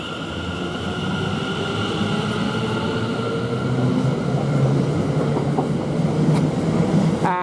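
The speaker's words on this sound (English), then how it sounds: "the 1210 Greater Anglia train from London Liverpool Street to Colchester town" A Greater Anglia passenger train from London Liverpool Street to Colchester Town pulls out of Chelmsford station, a loud sustained rumble with a steady motor whine that builds gradually as it departs, with no voices.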